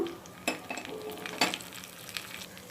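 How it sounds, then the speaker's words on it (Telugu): Mustard seeds, cumin, dried chili and curry leaves fry in hot oil, giving a soft continuous sizzle with a few sharp clinks and scrapes of a spoon against the pan, close and moderately quiet. "కొంచెం మినపప్పు పసుపు ఇంగువ అన్నీ వేసి దారుగా వేపుకోవాలి"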